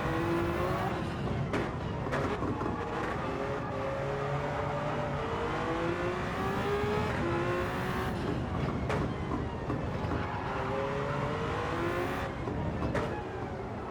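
A TS50 race car in the Gran Turismo 7 video game is heard from on board, its engine droning and revving steadily as the pitch rises and falls through gear changes, loud and continuous with no talk.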